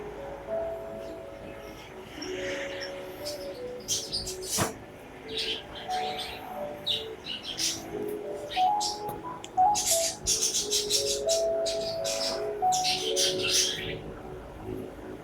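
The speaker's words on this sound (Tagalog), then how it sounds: "Hoy, wag mo na pinapakawala yung ibon mo sa labas, Sander, ha?" A pet bird chirping, scattered bright tweets and calls at moderate distance over a busy background of ambient noise and clatter.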